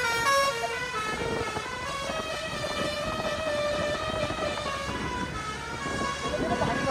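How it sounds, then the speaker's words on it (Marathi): A truck's multi-tone musical horn sounds steadily on the Malshej Ghat mountain road, held long and fairly loud over rumbling traffic and wind noise. "हॉर्न त्याचा ना एकदम आवाज बघा"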